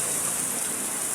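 Steady, dense rush of heavy rain, a continuous loud hiss with no pauses.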